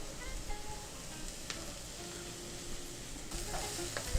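Green chillies fry in a pan for a soyabean manchuri dish, a steady close sizzle with occasional stirring scrapes and clinks throughout.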